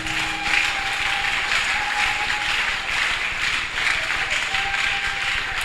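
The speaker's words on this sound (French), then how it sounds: "Acclamons très fort le roi." A church congregation at a French-language Sunday service applauding the king: steady, dense clapping from many people filling the room without a break, loud and close, with no talk over it.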